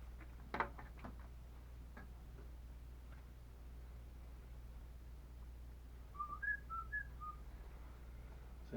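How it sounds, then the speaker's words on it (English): A person whistles a short run of clear, bright notes partway through, fairly close, over a quiet background with a steady low hum and a few faint ticks earlier on. "See, you can whistle too."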